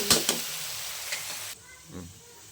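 Ginger sautéing in a pan for Filipino chicken curry, a few sharp stirring scrapes and sizzles up front, then a softer steady hiss with one more stir.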